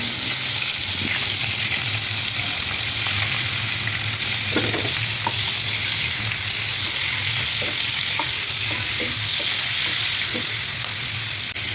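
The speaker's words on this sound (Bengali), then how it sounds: "তেল গরম হয়ে গেছে, এখন আমি চিংড়ি মাছটি ভাজবো, হালকা করে ভাজবো" Prawns fry lightly in hot oil, a loud, steady sizzle with intermittent stirring clicks running throughout, close up and with no talking.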